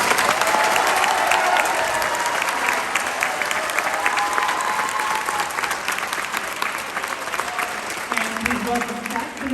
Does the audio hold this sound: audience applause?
yes